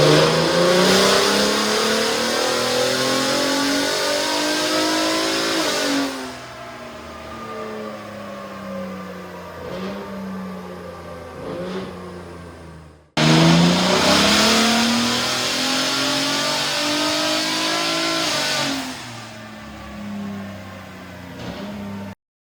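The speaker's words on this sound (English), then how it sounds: "as you can hear and see in the video, the truck sounds fantastic" A turbocharged Gen 3 Ford Raptor pickup truck revs hard twice on a dyno, each pull climbing in pitch with a rising roar before dropping off, loud and close, with a brief break between runs.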